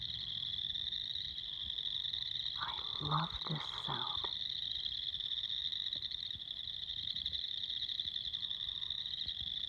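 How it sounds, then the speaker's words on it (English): Tree frogs and crickets calling at night on a nature walk in the Northwest, a loud, unbroken chorus of trilling and chirping, with a person speaking briefly over it early on. "All the tree frogs and the crickets and God knows what else."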